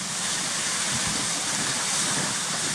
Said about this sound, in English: I wonder if you can hear the water on the video